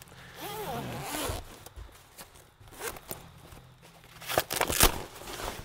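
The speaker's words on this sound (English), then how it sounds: "Well, here's another zipper." A zipper on replacement camper canvas is pulled in several rasping bursts of varying length, close and fairly loud, mixed with rustling of fabric and a brief bit of voice near the start.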